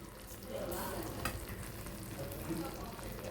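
A spoonful of ghee stirred into hot sugar syrup coating fried sweets, giving a continuous close bubbling sizzle with one sharp spoon knock partway through.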